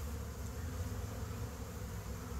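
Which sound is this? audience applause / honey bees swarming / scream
honey bees swarming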